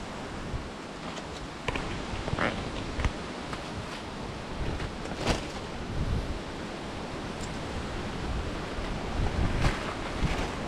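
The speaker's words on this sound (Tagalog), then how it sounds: "lakas ang hangin." Strong outdoor wind gusts buffet the microphone in a steady roar with louder bursts, alone and without talk, continuing throughout.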